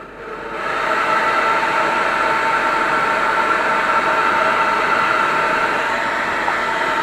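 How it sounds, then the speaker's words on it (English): A hair dryer starts up and runs with a steady, loud, broadband whoosh and whine over freshly painted miniature figures, continuing unbroken and close without any talking. "Hairdry time, sorry about the noise."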